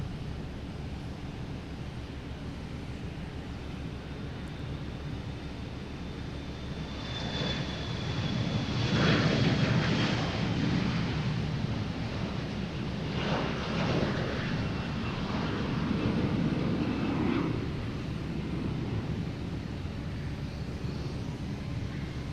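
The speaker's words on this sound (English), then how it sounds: "next taking off, we have American Airlines heading to Chicago, an E175" An American Airlines Embraer E175 jet takes off at Boston Logan International Airport, its engine roar rising from a distant rumble to a loud, sustained drone that holds steady and then eases slightly.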